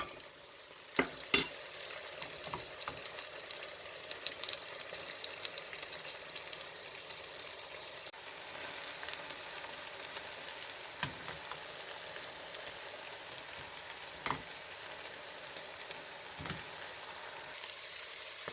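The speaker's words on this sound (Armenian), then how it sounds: "Հիմա ավելացնում ենք ավելուկը, սահմանենք" Sorrel sautéing in a pan, a soft continuous sizzle with scattered light stirring clicks and scrapes, close but fairly quiet and steady throughout, no voices.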